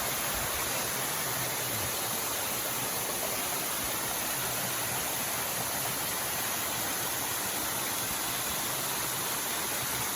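The Huay Rong waterfall in a forest park in Phrae province, Thailand, sends clear water pouring down with a steady, unbroken roaring rush. The sound holds loud and even for ten seconds, with no voices.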